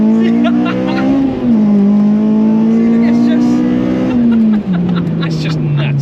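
A Honda Civic Type R EP3 track car engine with a 5.3 final drive and limited-slip differential pulls hard under load, its tone climbing then dropping sharply twice as it shifts up through the gears, loud and close.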